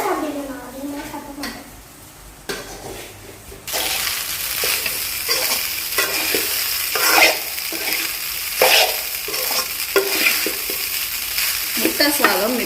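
Egg rice is stirred and fried in a pan: a soft scraping that builds into a steady, close sizzle with repeated stirring scrapes and light clinks, and a voice speaks briefly near the start.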